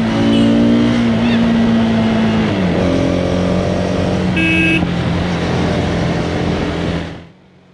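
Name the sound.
Hero Xtreme 250R motorcycle engine revving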